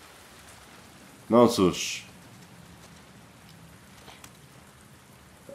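Rain in The Last of Us Part II, a soft continuous patter running throughout, briefly covered early on by a short spoken remark, with a few faint clicks later.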